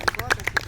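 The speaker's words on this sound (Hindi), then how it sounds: "तालियां मेरे शौर्य जी के लिए।" Several people clap for Shaurya at an International Yoga Day gathering. Close, loud, evenly spaced claps come in a quick rhythm over a brief stretch, with low background murmur beneath them.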